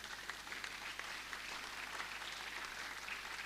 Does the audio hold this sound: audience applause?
yes